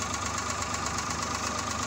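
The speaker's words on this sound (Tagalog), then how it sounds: "Andar na ang makina na to" A Suzuki F5A multicab engine idles after a tune-up, running with a steady, close, rhythmic knock and no voices over it.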